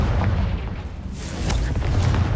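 Confringo spell blast in the video game Hogwarts Legacy, a deep, heavy boom that rumbles loudly and sustains for a couple of seconds with no talk over it.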